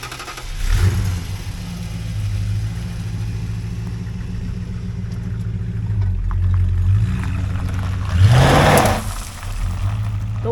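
A 1970 Dodge Coronet 440 revs its engine with a steady low rumble. Two louder bursts of throttle near the start and the end rise and fall, the second sounding like a one-wheel peel launch.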